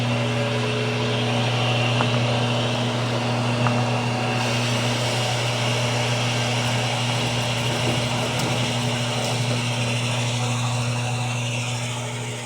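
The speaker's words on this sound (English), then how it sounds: "We're going to take the ball over to the press and just cut this down." A drill press fitted with a plug cutter trims glued-in inserts flush on a bowling ball, a steady loud motor hum and grinding cut running continuously throughout.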